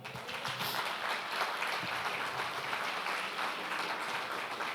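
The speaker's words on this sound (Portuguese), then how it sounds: "Aplauda o Senhor." Church congregation applauding the Lord, a sustained wash of clapping heard at moderate distance and fairly soft, with no one talking.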